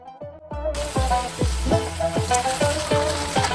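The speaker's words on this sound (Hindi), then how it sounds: "यानी कि इसको थोड़ा सा भूनेंगे" Cumin, curry leaves and onions frying in a pan for chicken akni pulao, a close, loud, steady sizzle with repeated scraping stirs of a spoon every half second or so.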